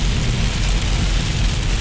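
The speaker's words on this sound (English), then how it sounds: "Hard to do the speed limit when you're in torrential downpours." Torrential rain pounds a moving vehicle in a steady, loud, unbroken roar, with no voices.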